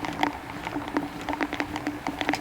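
Rain patters steadily across a golf course near the green and clubhouse, with irregular drips and taps close by over a soft continuous wash.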